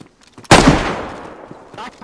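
A single loud, close AK gunshot in the video game DayZ, a sharp crack with a ringing tail that fades over a second and a half.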